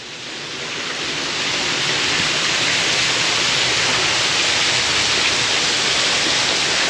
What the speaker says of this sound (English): it's really pretty how it's got the waterfall on either side